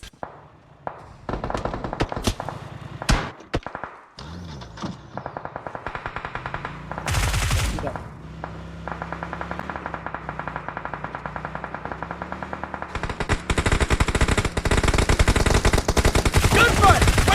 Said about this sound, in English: Gunfire! Where's it coming from?